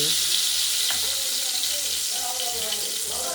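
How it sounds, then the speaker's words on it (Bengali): Brinjal slices frying in oil in a wok, giving a steady, dense hiss throughout with faint clinks. "বেগুন ভাজা হচ্ছে"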